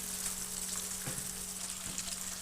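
Crab pieces fry in hot oil with a steady, close sizzle and soft crackle, broken by a couple of brief stirring bumps, with no talk over it.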